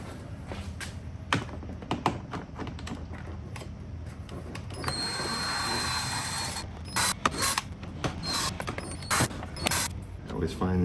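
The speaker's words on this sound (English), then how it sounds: "I'm going to undo these Phillips screws here" A hand screwdriver works Phillips screws loose on the plastic grille of a Toyota GR Corolla, giving close ratcheting clicks and creaks in irregular bursts with a brief steady whirring stretch in the middle.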